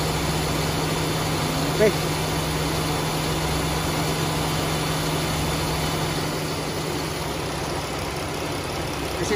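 A Dodge Durango engine idles steadily after a water pump replacement, following an overheating fault, with a constant low hum and a faint high whine; a brief word is spoken over it.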